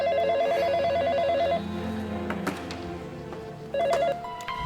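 Telephone ringing indoors at night, a loud repeating electronic ring with two bursts separated by a pause, with faint background sound underneath.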